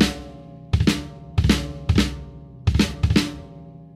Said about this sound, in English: substitute the two grace notes in a drag with right, left on the feet